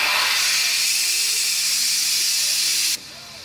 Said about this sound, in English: you don't need to let it naturally release the pressure